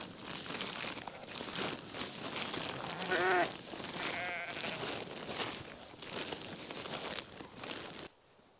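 A three-year-old ewe in a lambing shed bleats nearby with a wavering cry in the middle, amid rustling and shuffling of other sheep, before the sound cuts off abruptly.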